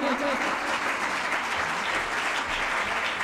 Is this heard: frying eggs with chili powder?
no